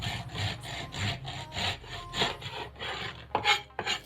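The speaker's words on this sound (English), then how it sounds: "Now we have to chop off the bottoms to make it flat." A knife sawing through the bottoms of baked sweet rolls, a quick series of rough rasping strokes, close and fairly quiet, with no voices.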